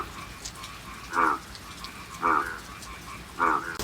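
The first monsoon rain falls in Dahanu with a soft, steady patter. Three loud, close frog croaks cut through it at regular intervals.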